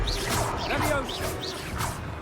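A Levioso levitation spell in Hogwarts Legacy casts with airy sweeping whooshes that rise and fall several times, mixed with light magical chimes and thuds over a low game rumble.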